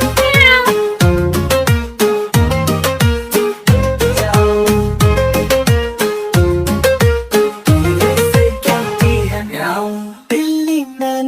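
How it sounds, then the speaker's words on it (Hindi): A pet cat meows repeatedly in a steady rhythm, loud and close, over a cheerful musical backing in a children's poem song. "जब मैं इसको पास बुलाऊं, धीरे से कहती है म्याऊं"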